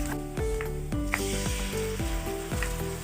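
Finely chopped onion sizzling in hot oil in a pot, a steady loud crackle with regular clinks and scrapes of a stirring spoon against the metal, close up and with no talking.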